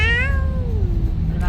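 A single loud, close cat meow rises and then slowly falls away, followed by a short quiet stretch with no talk.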